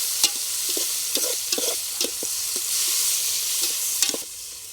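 Chillies and tomatoes fry in a pan for a village-style ponaganti greens curry, a steady hiss of sizzling oil punctuated by sharp spatula taps and scrapes close by.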